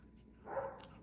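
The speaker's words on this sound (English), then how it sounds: "If you hear my dog barking" A single faint, brief bark from a German Shepherd in the background of a quiet indoor room, rising and fading within about a quarter second.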